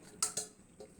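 A bowl is set over a wok of simmering country chicken as a makeshift lid, giving two quick, faint clinks of ceramic on metal close by, followed by a softer tap in a quiet kitchen.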